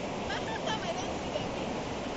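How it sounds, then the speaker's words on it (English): Ocean waves breaking on a beach in Ghana, with wind blowing over it, give a steady, broad rushing wash that stays continuous and fairly loud throughout. "It's the wind that brings the waves."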